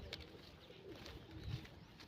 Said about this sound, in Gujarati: આ કબૂતર છે